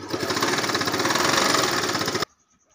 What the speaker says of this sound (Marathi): मी 2 इंचाची पट्टी लावतो म्हणून 2 इंच सोडून टीप मारत आहे.